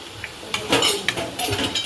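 Vegetable manchurian ingredients, cabbage, carrot and salt, get mixed in a pot with a spoon, producing a loose series of metallic clinks and scrapes up close.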